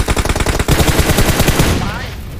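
Automatic gunfire in the mobile battle-royale game PUBG Mobile: loud, rapid bursts of close shots in quick rhythm, then a short trailing tail as the firing stops.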